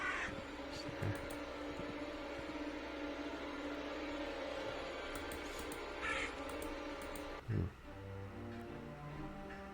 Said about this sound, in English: Oh, it's crows.